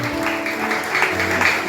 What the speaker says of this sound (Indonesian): Kasih tepuk tangan kepada Tuhan Yesus.